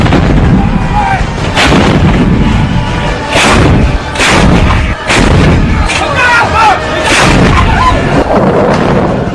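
Artillery gun crews firing shells in mountainous terrain, a series of heavy booming blasts roughly every second or two, each explosion rolling and echoing off the slopes, loud and continuous throughout.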